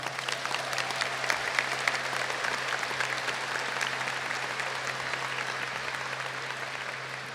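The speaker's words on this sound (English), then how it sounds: "Please join me in giving our families and caretakers a well-deserved round of applause." A round of applause at a high school graduation ceremony, a large crowd clapping steadily and fairly evenly throughout, slightly distant with a low electrical hum underneath and no speech.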